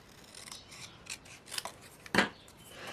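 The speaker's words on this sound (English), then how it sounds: "I am simply going to cut this portion here in half" Scissors cutting a paper greeting card piece in half, giving several close, crisp snips and rasping slides of the blades through the paper, with no talking.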